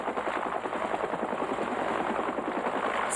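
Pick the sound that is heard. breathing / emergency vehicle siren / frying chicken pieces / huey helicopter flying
huey helicopter flying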